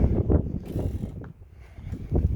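A plastic fender well piece on a Hummer H3 pushed into place, giving dense low rubbing and ratcheting clicks up close as it seats and locks.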